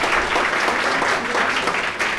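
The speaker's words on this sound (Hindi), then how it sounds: "विनीत भाई के लिए तालियां बजाइए एक बार" Audience applause at a book release ceremony, a steady wash of many hands clapping together at even loudness for the whole stretch, with no talking over it.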